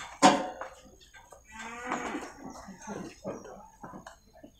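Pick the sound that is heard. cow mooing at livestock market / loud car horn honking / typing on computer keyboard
cow mooing at livestock market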